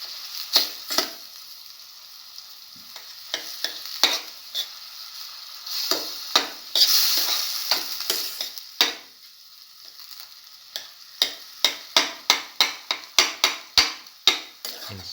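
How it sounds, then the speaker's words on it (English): Potatoes are mashed in a frying pan with a utensil for a cinnamon garlic stir fry, giving a quick series of sharp scraping and tapping strikes against the pan, irregular at first and then in a fast, even rhythm, close and alone. "Mash the potatoes."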